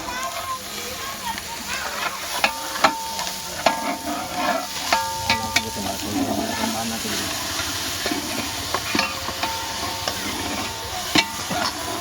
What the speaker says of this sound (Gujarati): દાળનો વઘાર કરતા શીખી ગયા છે